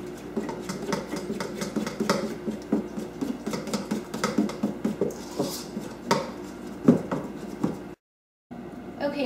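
Healthy banana cake batter being mixed in a bowl, with a utensil scraping and clinking against the sides in a steady, irregular patter, close and moderately quiet, plus a short silent gap near the end.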